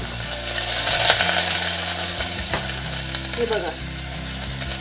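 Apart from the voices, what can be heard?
onion frying in a hot pan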